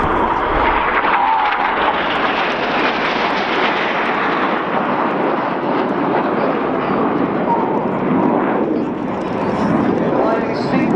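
RAF Red Arrows jets flying the synchro pair slingshot at an air show, a loud continuous roar of jet engines that fills the whole clip with little change, with people heard talking underneath.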